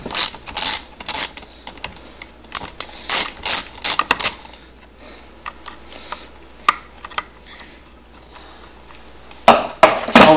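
A ratcheting wrench with an 8 mm socket loosens bolts on a Poulan Wild Thing 18-inch chainsaw during a rebuild, giving close, sharp bursts of clicking with pauses and scattered small taps between.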